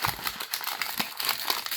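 Crinkly paper wrapping rustles and crackles continuously as a Power Rangers Lightning Collection Morphed Ryu action figure is unpacked from a plain cardboard box, close and fairly quiet, with no talking.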